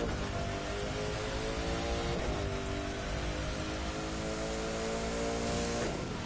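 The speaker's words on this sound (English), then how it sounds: "Love that engine sound" McLaren P1 hypercar engine in a racing video game, a loud, continuous high-revving roar that holds steady with slight shifts in pitch, no talking over it.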